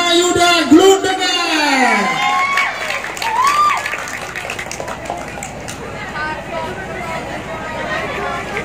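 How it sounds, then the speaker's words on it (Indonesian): Applause and crowd noise at an awards ceremony for best and favorite players, loud at first with whoops and voices over it, then settling into a steady murmur of clapping. "Beri aplaus yang meriah untuk Bima Yuda Glundega."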